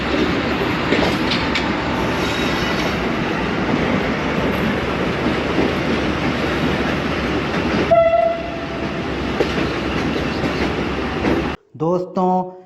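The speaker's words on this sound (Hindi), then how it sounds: "इंजन के पीछे वाले डब्बे में सफ़र कर रहा हूँ मैं।" The Badar Express passenger train rolls along with a constant rumble and rhythmic wheel clatter, heard from the coach behind the engine, a brief horn-like tone partway through, then a few sharp bursts near the end.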